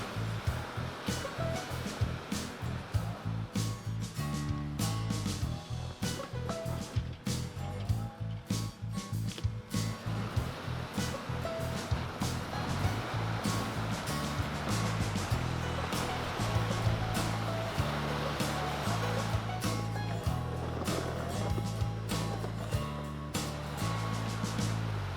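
Steady rushing floodwater flowing over rock in Queensland, continuous and fairly loud, with a low rumble and scattered clicks and knocks over it.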